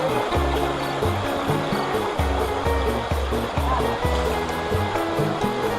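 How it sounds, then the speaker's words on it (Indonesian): A small waterfall in a forest stream gives a constant, loud rushing wash with music playing underneath. "Kita coba dulu di air terjun kecil-kecilnya ini."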